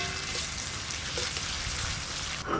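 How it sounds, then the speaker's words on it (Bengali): Onions frying in hot mustard oil, a steady dense sizzle and crackle that stays even and close throughout, with no voices. "তাই ছাঁকা তেলে পেঁয়াজগুলো প্রথমে ভেজে নেব।"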